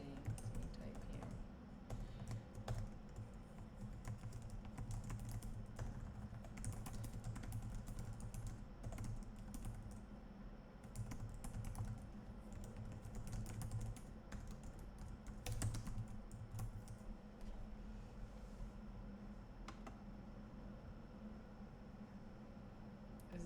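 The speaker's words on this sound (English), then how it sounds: "So we type here." Steady typing on a computer keyboard during coding practice, continuous clicking keystrokes over a constant low hum throughout.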